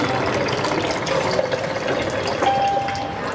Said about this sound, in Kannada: ಇವಾಗ ನಮ್ಮ ನೀರು ಹಿಡಿತಾ ಇದ್ದೇವೆ ಇದಕ್ಕೆ